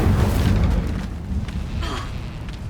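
A heavy booming fire-spell blast from Hogwarts Legacy, loud and deep from the start and slowly fading into a crackling, rumbling tail with a faint swish near the end.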